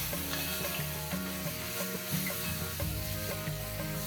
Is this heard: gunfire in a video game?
no